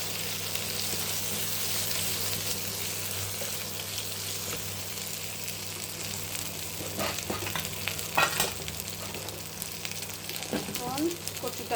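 Spices fry in a pan for a taro mash, making a continuous bright sizzle with a low hum underneath and a few scrapes and clinks of stirring toward the end.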